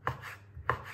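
Two crisp knife chops cut candied fruit into small pieces on a board, close and evenly spaced within a second.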